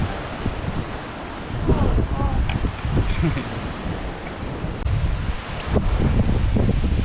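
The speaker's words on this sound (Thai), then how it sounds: "ลมแรงมากนะครับ" Strong wind buffeting the microphone on a beach at Koh Kood during the rainy season, roaring gusts rising and falling throughout with surf underneath and people talking faintly in the background.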